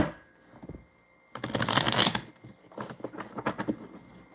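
A deck of playing cards is riffle-shuffled up close: a dense crackling burst of flicking cards, a short pause, then a second patter of cards being riffled and squared.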